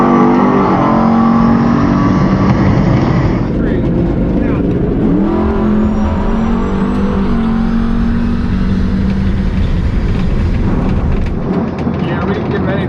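A drag racing pass at a noob night event, the car's engine roaring loudly and continuously at close range before the sound shifts as it accelerates away down the strip.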